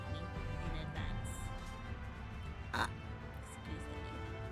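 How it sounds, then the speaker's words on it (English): A game character burps in Final Fantasy 14, one brief belch rising over a steady layer of game music and ambience, mid-loud and close. "I made a burping."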